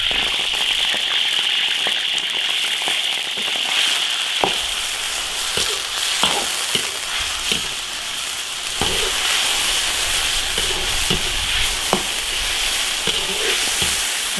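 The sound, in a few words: meat slices sizzling in hot oil in an iron wok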